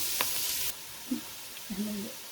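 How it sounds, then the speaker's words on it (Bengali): Onion frying for butter chicken gives a faint, steady sizzle that cuts off abruptly early on, followed by a few soft, scattered kitchen knocks. "এখন আমি অনিয়নটা ভেজে নিয়ে"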